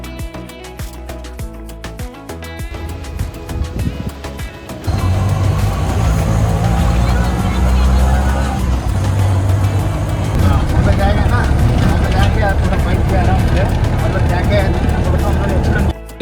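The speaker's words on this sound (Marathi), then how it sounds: "रिक्षामध्ये बसलो होतो." An auto rickshaw ride from the railway station near Hampi: a lighter, uneven rumble gives way after a few seconds to a loud, continuous engine roar and road noise close by.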